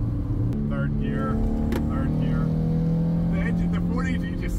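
Inside a 1989 Toyota MR2 AW11, the 4A-GE engine revs high and smooth, its tone rising steadily and holding a clear pitch, with someone speaking over the engine.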